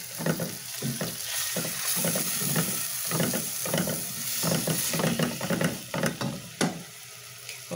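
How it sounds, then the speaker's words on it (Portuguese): Chopped onion fries in a pan while being stirred to brown it for a corn cream dish, a steady close sizzle broken by repeated scraping stirs, with no talk. "Vamos botar a cebola para dourar um pouquinho."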